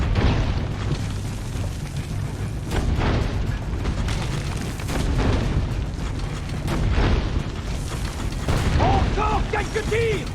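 Cannon fire in Assassin's Creed Brotherhood comes as repeated heavy booms over a continuous rumbling battle din, loud and close, with blasts recurring every couple of seconds and a voice speaking underneath.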